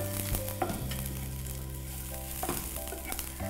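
Steady sizzling of lentils tempering in hot oil, with occasional sharp crackles and pops over a constant hiss.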